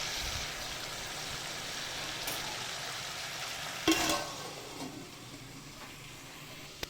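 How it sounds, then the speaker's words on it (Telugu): Washed chicken frying and being stirred in a pan for chicken curry, a steady close sizzle with occasional scraping stirs and a brief louder clatter partway through. "ఆ ఫ్రై అయిన తర్వాత కడిగి పెట్టుకున్న చికెన్ అందులోకి వేసుకొని బాగా కలుపుకోవాలి"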